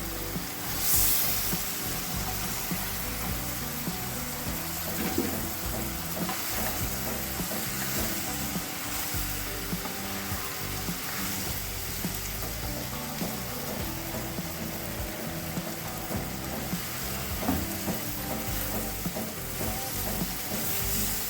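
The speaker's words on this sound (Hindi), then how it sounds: "अब हमने ये करना है कि हमने इसमें भिंडियाँ ऐड करनी हैं।" Okra fries in roasted masala with a steady, dense sizzle and occasional stirring scrapes, continuous and close throughout with no voice.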